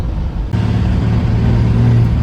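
A pickup truck engine revs loud and close, briefly dipping near the half-second mark before settling into a strong, steady drone that climbs slightly.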